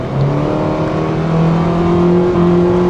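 Under hard throttle, a Mitsubishi Xpander with a CVT gearbox gives a loud, steady engine drone whose rising pitch holds smoothly as the car accelerates, heard from inside the cabin with no talking.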